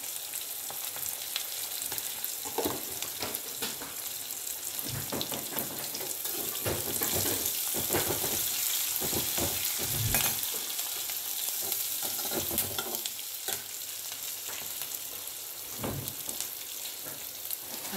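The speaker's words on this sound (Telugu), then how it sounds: "అది కూడా నూనెలో ఆనియన్స్తో పాటు బాగా వేయించుకోవాలి." Onions fry in hot oil with coriander seeds and curry leaves, giving a steady, close sizzle broken by repeated scrapes and clinks of stirring throughout, with no talking.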